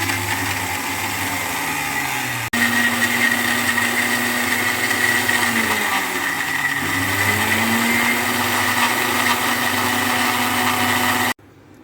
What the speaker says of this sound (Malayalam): നെല്ലിക്ക ചെറുതായിട്ട് അരിഞ്ഞതും ഇഞ്ചി കാന്താരിയും എടുത്ത് മിക്സിയിൽ നല്ലതുപോലെ അരയ്ക്കുക.